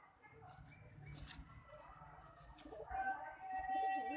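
A rare ochre-colored racing pigeon kept by a pigeon fancier gives soft, low coos, faint and close, with some higher chirps and rustling around it.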